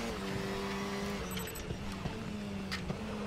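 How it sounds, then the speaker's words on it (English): A KTM X-Bow GT4 race car in the RaceRoom racing game holds a steady, loud engine drone, with brief breaks in tone where it shifts up and faint tire noise beneath. "I like the upshift sound of the car."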